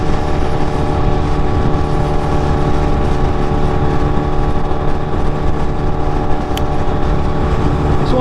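A motorcycle engine drones steadily at close range, a loud continuous rumble with wind noise and no speech.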